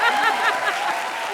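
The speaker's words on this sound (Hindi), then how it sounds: "ताली बजाते" Studio audience applause on a televised comedy show, a steady dense patter of many hands clapping at moderate loudness throughout, with faint crowd murmur beneath.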